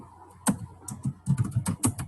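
Typing on a computer keyboard while entering text into a chat box, with clustered key clicks in quick irregular bursts, close and fairly clear, and no talking.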